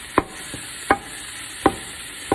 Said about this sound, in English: So as I said, I'm starting up by browning some hamburger meat.